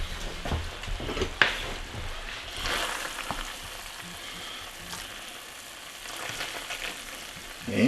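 One-pot sausage pasta in a hot pot gives a low steady bubbling and hiss, broken by occasional clinks and scrapes of a ladle against the pot and soft wet slops as it is served, with no talk.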